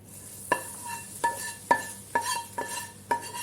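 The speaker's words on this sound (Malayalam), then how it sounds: "ഇനി ഇത് ഇങ്ങനെ തന്നെ നമുക്ക് കറിയിലേക്ക് ഒഴിച്ചു കൊടുക്കാം." A spoon stirring mango kalan curry after a hot coconut oil tempering is poured in sounds as six evenly spaced metallic clinks against the pot, close and fairly quiet.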